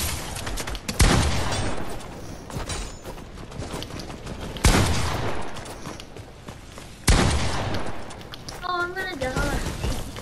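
Rapid gunfire bursts from a shooter video game, three sharp loud volleys with sustained crackling shots between them, mixed with game effects and a short rising tonal chime near the end.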